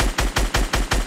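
Video game gunfire comes as a rapid automatic burst of about six evenly spaced loud shots, close and punchy, with no talking.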